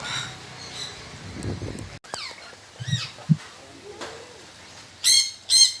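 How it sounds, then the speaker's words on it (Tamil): A peacock on an organic farm lets out two loud, harsh calls near the end, after a quieter stretch of scattered chirps and calls from other birds nearby. "இது மயில்."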